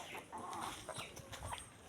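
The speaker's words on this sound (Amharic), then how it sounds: "ምስኪን ዶሮ በቃ እቺ ዶሮ ምስኪን ዶሮ ናት።" A hen clucks softly in short, scattered bursts, fairly quiet and close, with no one talking.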